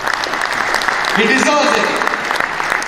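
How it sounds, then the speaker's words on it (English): An audience at a motivational conference session applauds warmly for a speaker, a continuous wash of clapping with a voice briefly speaking over it. "I think he needs a good clap."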